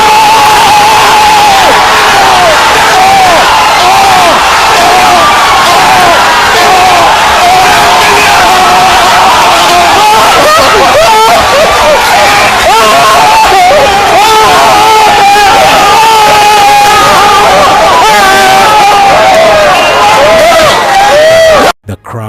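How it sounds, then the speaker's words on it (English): A game show studio crowd cheers, whoops and applauds a contestant's win on Nigeria's Who Wants to Be a Millionaire, a loud, dense, sustained roar with shouting voices that cuts off abruptly at the end. "crowd erupted in applause"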